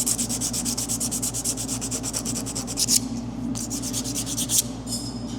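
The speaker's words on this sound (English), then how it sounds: "Just the 120 grit, making sure this is nice and flat" Hand sanding with 120 grit sandpaper, rapid rhythmic back-and-forth rubbing strokes, close and steady, pausing briefly twice before resuming, with no talking.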